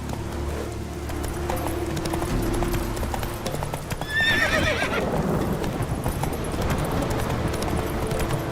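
Roach, a horse in The Witcher 3, gallops with loud rhythmic hoofbeats throughout and gives a clear neigh midway, close and prominent over the game's ambience.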